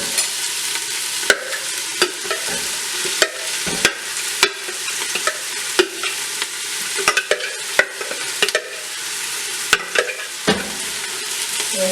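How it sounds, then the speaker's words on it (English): Olive oil sizzles steadily in a hot pot as vegetables sauté for a no-sugar pasta sauce, with crisp spits, pops and intermittent scrapes and clacks of stirring close by. "get a nice good saute going on"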